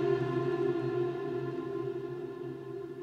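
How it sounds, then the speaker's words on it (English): Sustained sampled tone played from a ROLI controller into Kontakt, its pitch bent slightly as it holds for about three seconds, close and moderately quiet, no voices. "here is what it sounds like with the pitch"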